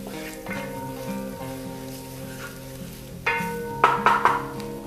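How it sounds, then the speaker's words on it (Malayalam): Masala being stirred and fried in a pan over a low flame while cooking kappa biriyani, a steady soft sizzle with occasional scraping stir strokes that grow louder near the end. "നമ്മളുടെ മസാലയുടെ പച്ചമണം മാറുന്ന വരെ നമുക്കിതൊന്ന് ചെറിയ തീയിൽ നന്നായിട്ടൊന്ന് മിക്സ് ചെയ്തെടുക്കാം."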